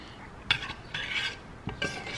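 A spoon stirring rolled oats in a pot on a stovetop; a few quiet scraping strokes against the pot come in short bursts, faint and close, with no talking.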